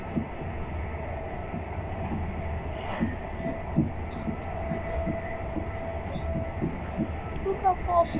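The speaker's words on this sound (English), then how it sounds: "Look how fast this train is." A passenger train between Bournemouth and Woking rumbles steadily from inside the carriage, with rhythmic wheel thumps and a faint high squeal near the end.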